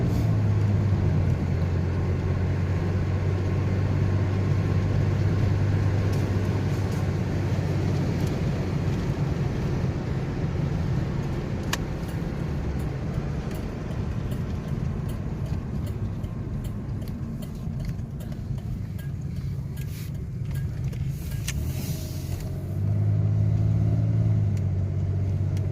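A Chevrolet Lumina Eurosport with a 3.1 V6 being driven and shifted through gears: a steady, droning engine rumble from inside the car that eases off partway and swells again toward the end.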